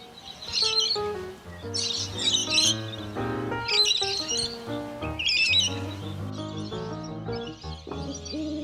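Early-morning birdsong at sunrise in an urban backyard: several birds sing and chirp in overlapping bursts alongside low hooting calls, close and lively, with no talking.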